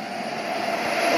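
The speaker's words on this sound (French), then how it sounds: "Non, mais c'est un avion." A Fouga Magister jet of the Patrouille de France passes with a brief, steady jet roar and a sustained whining tone, heard alone without voices.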